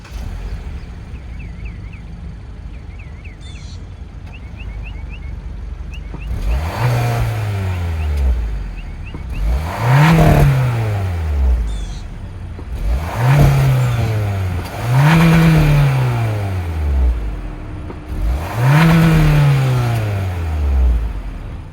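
A 2024 Kia Seltos SX Turbo with a 1.6-liter turbo four-cylinder sits idling, then is revved five times in succession, each sharp rise in pitch falling back to idle, heard close and loud.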